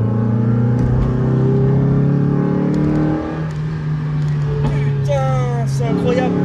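A Mazda Miata engine fitted with a TENZO R direct intake kit roars loud and close, holding a steady high rev that dips and then climbs again.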